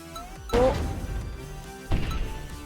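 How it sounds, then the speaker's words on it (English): Two sharp impact-like hits from the shooting effects in the KanaBlaster video game, each a sudden crash that decays over about a second, spaced well apart with no talk. "whenever you shoot anything, you get a sound of what it makes"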